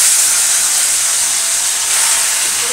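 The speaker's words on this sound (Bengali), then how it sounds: "এই ওভেনে তো মলা মাছটা ভাজা হচ্ছে" Small mola fish hiss and sizzle loudly and steadily in hot oil in a kadai on a kitchen stove, a dense continuous frying crackle with no talking.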